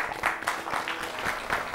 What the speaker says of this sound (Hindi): जी तो जोरदार तालियों से स्वागत किया जाए डॉक्टर मालविका ददलानी ज